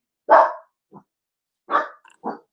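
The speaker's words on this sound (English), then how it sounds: "Over the dog's barking." Dogs bark indoors after a doorbell: a few loud, close, separated barks with a small yip between them, and nothing else heard.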